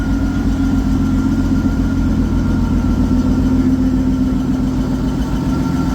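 A 1955 Bombardier wide gauge snow machine engine runs at a steady, loud idle, a close, even rumbling drone with vibration and no change in pace, with no one talking.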